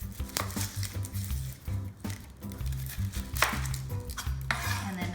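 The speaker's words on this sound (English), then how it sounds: "So with the onion, we're just going to trim off the 2 ends." A knife trims both ends off an onion on a chopping board, giving several sharp knocks and taps of the blade against the board amid light kitchen clatter, close and clear with no talking.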